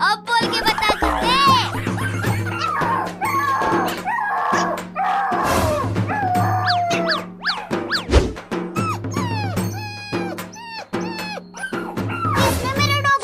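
A dog yips, whimpers and barks in short bursts indoors, close to the mic, mixed with people talking and shouting throughout.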